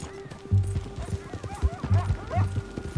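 Horse hooves clip-clop in a steady trotting rhythm in the Red Dead Redemption 2 video game, close and clear, with a brief whinny and faint game sounds alongside.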